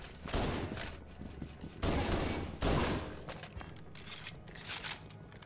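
Gunfire rattles in Halo: Combat Evolved, coming in loud bursts of rapid shots separated by short pauses, with quieter scattered pops toward the end.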